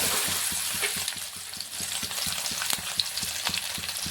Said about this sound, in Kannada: ಇವಾಗ ಇದನ್ನು ಫ್ರೈ ಮಾಡ್ಕೊಂಡು